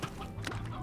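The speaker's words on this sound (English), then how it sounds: "I thought I heard a chicken over here." A brief, faint chicken cluck from the Slime Rancher video game, a short fowl call sitting in a soft, muddy game ambience.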